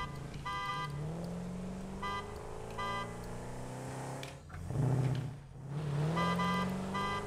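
A car in the Satisfactory video game drives along with a steady engine hum, punctuated by repeated short beeping tones and a brief swell of revving near the end, with no talking over it.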